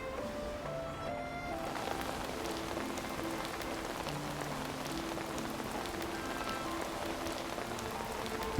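Rain falls in the video game Tears of Themis as a steady, soft patter on surfaces, continuous and even beneath gentle sustained musical tones.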